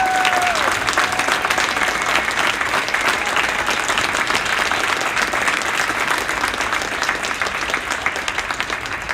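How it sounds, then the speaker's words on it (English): A high school band concert audience applauds the graduating seniors, a loud, dense and steady wash of clapping from a large crowd that carries on for the full stretch with little change. "Can you give them another round of applause?"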